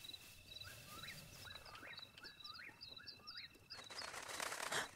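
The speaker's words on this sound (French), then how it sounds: "J'ai fait fuir les petits oiseaux en marchant dessus." Small birds take off in Zelda: Breath of the Wild, with rapid wing flaps and repeated bright chirps running through the clip. A louder fluttering burst comes near the end.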